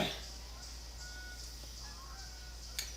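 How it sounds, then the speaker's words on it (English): Faint geese honking now and then in the distance over a steady hum of background noise, with a brief sharper sound near the end. "you can hear some geese here"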